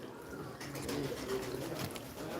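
Pet pigeons cooing softly nearby, with low, faint coos over a quiet, hissy background and no talk.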